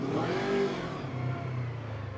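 Engine of a KOVE 250RR 250cc sportbike revving, a single near rise in pitch that falls away and settles into a steady idle-like drone, with no talk.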